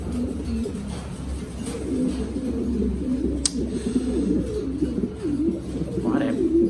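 Mondain pigeons coo in a steady, low, rolling murmur that runs throughout, close by, with a few faint chirps above it and no talking.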